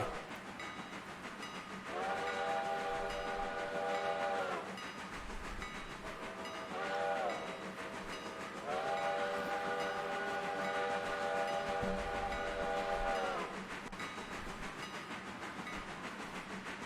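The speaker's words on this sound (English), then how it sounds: "You wanted to give out a big old whistle, huh?" Steam locomotive whistle in the Railroader video game, sounding in several long harmonic blasts with short breaks between them over a steady rumble of the train in motion.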